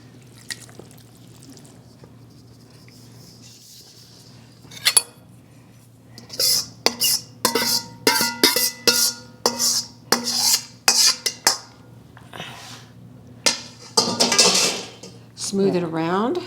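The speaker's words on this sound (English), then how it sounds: "So I'm just going to pour the whole thing into the baking dish." Chicken bacon ranch mixture poured from a bowl into a greased baking dish, a run of wet clinking and scraping knocks with soft glopping splashes, close and fairly loud, with a brief spoken bit.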